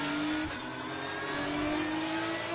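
Race car lapping Virginia International Raceway, heard onboard: a loud, steady engine drone holding a high pitch with a slight rise, continuous and close with wind roar and no talk.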